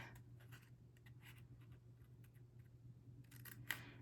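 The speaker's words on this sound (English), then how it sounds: "So I'll just do a little starting snip right here" Scissors snip cardstock while making a stamped card: one short, crisp cut near the end, with faint paper rustles before it and no talk.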